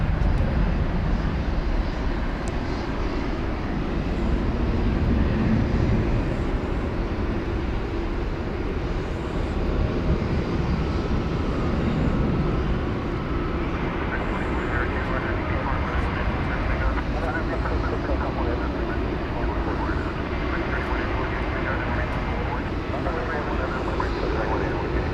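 Steady broadband jet engine rumble from a UPS cargo plane taxiing at DFW Airport, a continuous drone heard at moderate distance throughout, with faint background voices mixed in.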